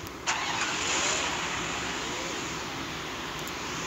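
A car engine in the Free Fire battle royale game cranks and starts, then settles into a steady, fairly loud idle hum with no talk over it.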